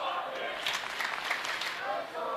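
The crowd at a Call of Duty Major II elimination match between OpTic Texas and LA Thieves cheers and applauds in a steady roar, while a commentator talks loudly over it throughout.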